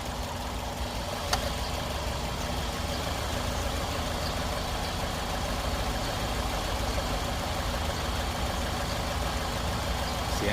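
Stock Toyota Altis 1.6 G VVT-i from 2004, engine idling: a smooth, quiet, steady hum heard close by, with no talking, apart from one faint click early on.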